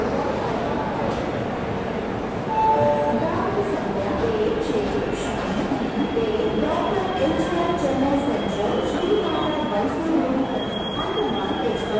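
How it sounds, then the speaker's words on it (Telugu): Shatabdi Express pulling into New Delhi railway station, a steady rumble of rolling wagons and wheel squeal with a brief high whistle-like tone near the end, station noise throughout and someone talking over it. "శతాబ్ది అయితే వచ్చేసిందండి. న్యూఢిల్లీ రైల్వే స్టేషన్కి"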